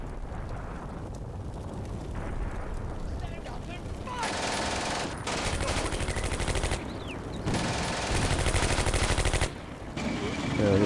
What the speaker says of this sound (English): Yeah, this machine gun.